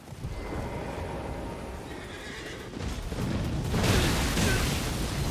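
Horse neighing in a video game, a loud whinny over clopping hooves with a rumbling boom rising partway through, no talk.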